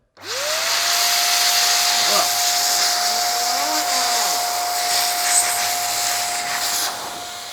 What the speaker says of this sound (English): Let's see what happens if I turn the duster onto it.